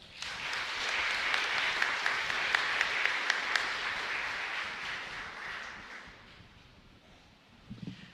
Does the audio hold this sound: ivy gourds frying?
no